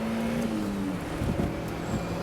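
A JDM convertible sports car on a track, engine droning loud and steady at high revs as it brakes and blips through a downshift at the end of a straight.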